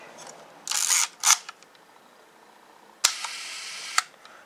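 A Fuji GS645 medium-format camera being worked with its aperture set to F22, giving two pairs of short, crisp mechanical clicks and whirs up close, separated by a quiet gap.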